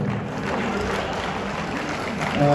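Audience clapping at a short film festival, a dense, even crowd applause that fills the whole stretch, fairly loud, with voices mixed in.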